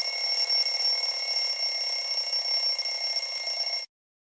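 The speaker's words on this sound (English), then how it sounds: "woke up to the sound of his alarm clock blaring in his ears." A loud, steady electronic alarm clock rings continuously with a piercing, unbroken tone, then cuts off abruptly near the end, with no voices.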